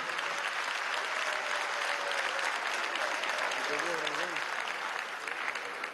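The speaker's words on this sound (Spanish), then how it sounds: "Un aplauso a Guarena" Audience applause at a political rally in a military academy, a steady dense wash of clapping from a crowd, sustained throughout with a voice briefly heard over it near the end.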